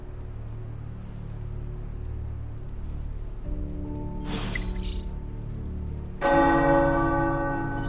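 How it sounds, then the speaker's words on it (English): Church tower bells in a video game begin ringing partway through, starting faint and then swelling into a loud, resonant peal over a low, steady ambient hum. "The tower bells are ringing."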